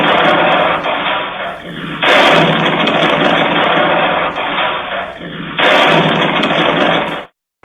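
A missile strike on Tel Aviv in central Israel comes through as loud, heavy, roaring blasts in two big surges with a rumbling, distorted tail between them, then an abrupt cutoff.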